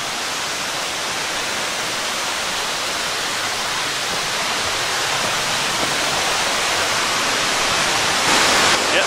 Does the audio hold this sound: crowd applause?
no